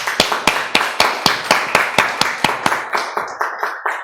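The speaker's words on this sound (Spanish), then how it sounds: "Ahora sí, Aplausos." Lecture audience at a medical conference claps in a steady, even rhythm of about three sharp claps per second, nearby and moderately loud, thinning slightly toward the end.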